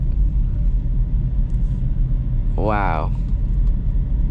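Steady low road rumble of a 2008 Toyota Prius Grand Touring driving through a snowy neighborhood, continuous and close from inside the cabin, with a brief exclaiming voice over it.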